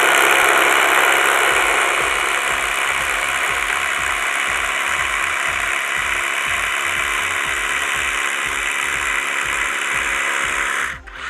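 A DeWalt cordless hammer drill with a 5.0 Powerstack battery bores a 1/2 inch by 2.5 inch hole into concrete. It gives a loud, close, steady grinding whine with rapid rhythmic hammering pulses, then stops abruptly at the end. No talking.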